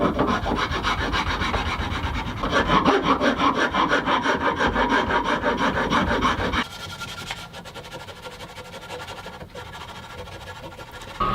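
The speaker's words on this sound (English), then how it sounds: "using a rasp and some sandpaper, I'll finalize the shape of the handle." A hand rasp and sandpaper shape a wooden handle for a leather sharpening strop, giving steady back-and-forth rasping strokes. The scraping grows heavier midway, then gives way to a lighter, finer rubbing sound.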